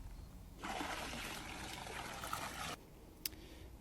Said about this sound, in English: Mixing up some chlorine first and then pouring it in.